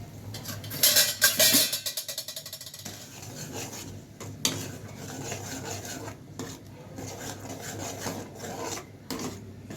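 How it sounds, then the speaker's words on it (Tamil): Spoon stirring tomato chutney with Kashmiri chilli as it boils in a pan: a quick run of rhythmic scraping and clinking at first, then softer intermittent scrapes over a low bubbling background, close by. "இதை நல்லா கொதிக்கிட்டோம், கலக்கிடுவோம்."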